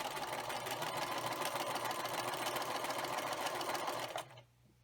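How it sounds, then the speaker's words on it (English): A sewing machine stitches quilt strips together in a loud, steady run that stops abruptly near the end, leaving faint room noise. "Now I'm going to continue to sew, and after I sew this strip on, then I will be just sewing the next strip and the next strip"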